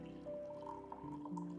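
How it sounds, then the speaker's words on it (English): Pour-over coffee poured into a diner-style mug, a soft, quiet trickle of liquid with faint drips, heard alone without talking. "swirl around, and then pour in the coffee"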